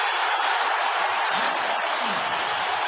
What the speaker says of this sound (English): Listen to the crowd, folks.